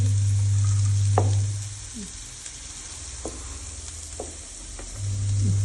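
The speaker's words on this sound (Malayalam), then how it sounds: "ഇനി അടുത്തത് ക്യാരറ്റ് ഇട്ടോളൂ." Carrots fry in a pan for carrot fried rice with a steady loud sizzle. A few stirring scrapes sound close by, and a low hum runs at the start and the end.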